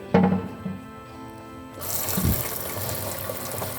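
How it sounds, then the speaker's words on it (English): Tap water runs steadily into a compact flat tank made to slide under a laboratory sink, a broad continuous wash that starts after a brief clunk and carries on at moderate level. "turn your water on,"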